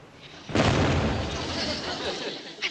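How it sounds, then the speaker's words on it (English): A fireworks aerial bomb goes off in one loud, broad blast that rolls on as a long, rumbling decay, heard in a small-town setting. "I think that last one must have been an aerial bomb."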